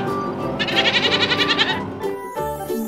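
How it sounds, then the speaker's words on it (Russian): A goat bleats in a long, loud, wavering call, then gives a shorter second bleat, heard up close with no talking. "Слышишь? Да, это козочка."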